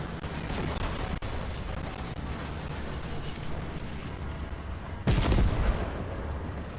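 A tank wrecking buildings in a video game, a steady loud rumble of blasts and crumbling debris, ending with a sudden heavier explosion near the end.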